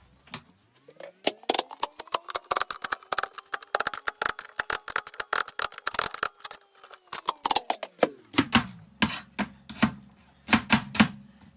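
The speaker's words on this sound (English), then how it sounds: "I've now got to chop the onions," Onions being chopped on a board for a chilli, a rapid run of sharp knife strikes with a short pause and then slower, spaced chops, close and clear with no talking.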